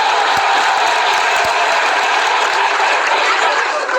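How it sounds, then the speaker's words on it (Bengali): An audience claps loudly and continuously, a thick steady wash of overlapping hand claps that sustains without pause from start to finish. "ইমোশনসের জন্য বটে জোরে হাততালি।"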